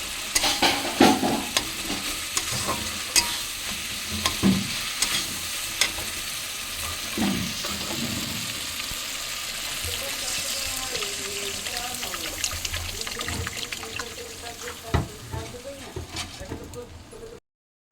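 Water is poured into spice paste frying in a pan for a fish curry, with steady sizzling and stirring scrapes heard close up over eighteen seconds. A voice speaks intermittently.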